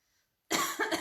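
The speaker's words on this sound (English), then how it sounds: "It makes me cough a little bit. I'm allergic to it." A person coughs from sage smudge smoke they are allergic to, a short cluster of two close, loud coughs bursting out of near silence.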